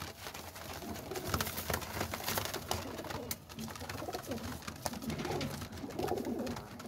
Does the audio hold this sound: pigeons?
yes